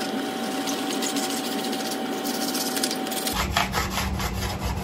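A knife blade is rubbed rhythmically against a sharpening stone to take off burrs and rust, giving a close, steady scraping that shifts in character partway through.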